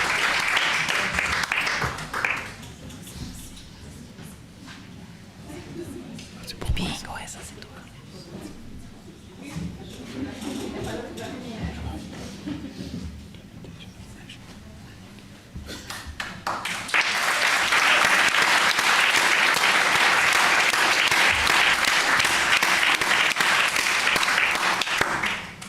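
A graduation ceremony audience for a public health master's program bursts into applause. A hall-wide clapping ovation opens the stretch, a spoken announcement follows, and then dense, sustained applause fills the room again.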